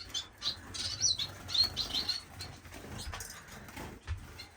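Startled pet birds flapping their wings in an indoor bird room, several quick bursts of fluttering mixed with sharp chirps, fairly close and moderately loud.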